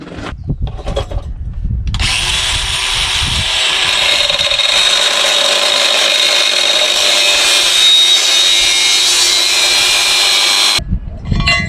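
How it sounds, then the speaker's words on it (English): A power tool grinds burrs off a metal part of a dump bed insert, a loud, steady high-pitched whine running for about nine seconds after a short clunk of handling, then cutting off abruptly. "Just had to get the burrs off of there."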